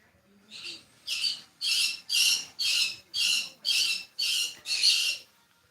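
A pet bird named Zelda gives a run of about nine loud, harsh squawks at an even pace, each one close and piercing, with no talking over them.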